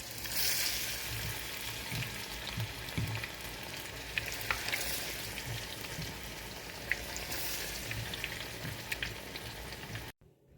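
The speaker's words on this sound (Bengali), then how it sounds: "আমার স্কুইড ফিশগুলো আবার দেখো ভাজা হয়ে গেছে" Pieces of squid fry in hot oil with a steady, dense close sizzle and crackle throughout, occasional sharper pops, cutting off abruptly at the end.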